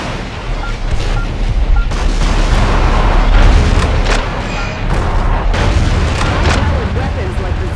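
M1 Abrams tanks firing in Metal Wolf Chaos XD, a series of loud, heavy booms and blasts over a dense, rumbling battle din that stays steady and close throughout.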